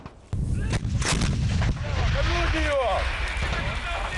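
An artillery gun fires during a battery drill, with a sharp heavy blast followed by a long rumbling boom and echoes rolling on for several seconds, loud and close.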